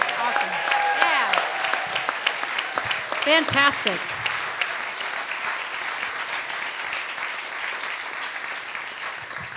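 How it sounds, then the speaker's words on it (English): Audience applause at an outdoor festival-on-the-green concert with an acoustic trio, a dense wash of clapping and some cheers under someone speaking briefly, the applause gradually tapering off. "how about a huge round of applause for the people that have kept this going for 41 years"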